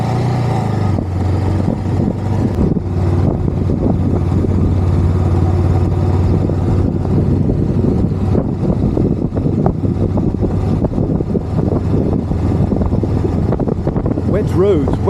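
A Honda Rebel motorcycle engine drones steadily while riding on roads drying after rain, with wind rush over it and someone talking throughout.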